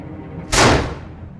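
A single loud gunshot in the crime drama game Heavy Rain, a sharp close blast that decays over about half a second above a low, quiet background, with no speech.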